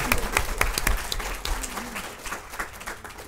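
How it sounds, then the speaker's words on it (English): Audience at the WTM 2012 travel bloggers innovations session claps and cheers, a dense burst of applause with a few sharper claps and a faint voice or two, easing slightly toward the end. "Claps and cheers, please."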